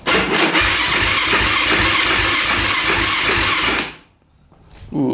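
A small race quad engine cranks and catches, running loud and rough with a rapid pulsing beat for about four seconds before cutting out abruptly, followed by near silence.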